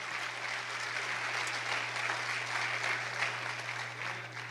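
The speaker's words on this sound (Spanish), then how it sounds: "Dele un aplauso fuerte al Señor" A Spanish-speaking church congregation gives a strong, sustained round of applause, dense and even throughout with no voices standing out.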